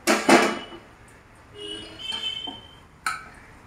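Fried chicken is lifted out of the pan into a bowl, with a couple of bright clinks of dishes and utensils and a few softer knocks and scrapes between them, close by and quiet.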